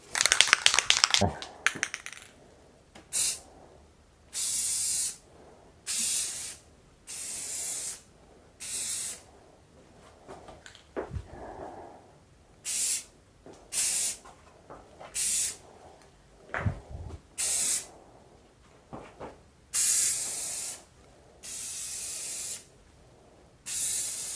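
Aerosol spray paint being applied in thin coats to a Diamondback Viper JR BMX bike frame during a restoration, heard as about a dozen loud, close hissing bursts of one to two seconds each, separated by short quiet gaps.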